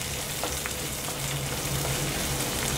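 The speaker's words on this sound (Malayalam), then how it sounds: "നന്നായിട്ട് വഴറ്റിയെടുക്കാം." Chopped onion, green chilies and curry leaves sauté in hot oil in a pan, giving a soft, steady sizzle with a few faint stirring clicks, close by and without talk.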